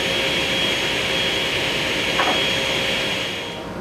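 A table saw rips through 3/4 inch maple panels in a workshop, giving a loud, steady high whine that holds evenly for several seconds before easing off as the cut ends.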